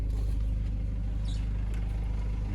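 A campervan pulls away, its engine a steady low rumble with rolling road noise, close and continuous throughout, no voices.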